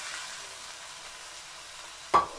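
Soft broiler chicken added to onions in hot oil for a Bangladeshi chicken-and-beans dish, giving a steady soft frying hiss with one brief louder clatter near the end.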